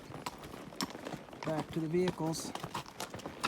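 Horses' hooves clip-clop in an irregular patter on a wilderness pack trail in the Uintas, fairly faint and close, with people talking over them.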